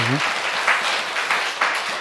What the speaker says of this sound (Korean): 다시 박수로 환영하시겠습니까?